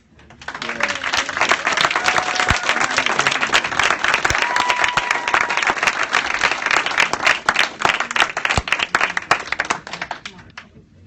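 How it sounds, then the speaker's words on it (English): Audience applause at a county Democratic central committee meeting, a dense, steady roll of many hands clapping for about ten seconds before tapering off at the end, with faint voices underneath. "a round of applause for Herman."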